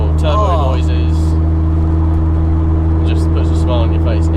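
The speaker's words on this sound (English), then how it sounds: "Turbo noises" Nissan 200SX fitted with a Garrett GTX2867R turbocharger, its engine droning loud and steady at close range, with whistling turbo tones rising briefly near the start and again near the end while voices talk over it.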